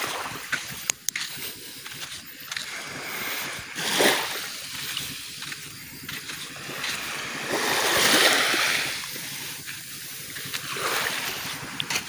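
Waves wash onto a seaside shore in irregular swells, with a steady hiss of surf and wind and a louder surge now and then, heard close and alone.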